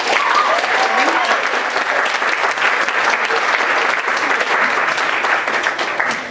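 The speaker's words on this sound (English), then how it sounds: "Can I get a round of applause for that show?" Sustained audience applause at an evening show, dense steady clapping from a sizeable crowd that holds loud and even throughout without pause.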